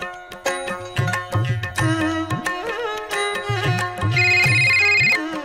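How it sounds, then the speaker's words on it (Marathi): A telephone rings with a melodic electronic ringtone: a repeating tune of bright tones over a low pulsing beat, loud and close, with no one speaking. "बर्फवाल्याचा फोन"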